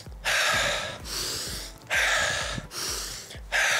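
Heavy, deliberate breathing during a soccer stamina exercise, with four loud, rushing breaths in a slow, regular rhythm, each a long airy draw close to the listener.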